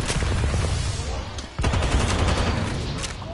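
Dense bursts of video game gunfire crackle and rattle continuously through a shooter match, with a short dip midway before the shooting resumes at full intensity; a player's voice sits faintly underneath.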